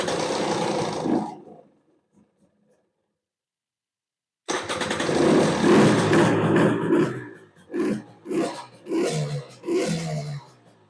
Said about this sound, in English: running motorcycle